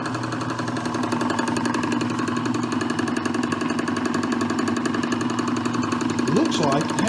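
A metal lathe in a home shop, set up on its back gears, runs with a steady mechanical hum and rhythmic knocking, loud and continuous throughout, with a brief rising whine near the end.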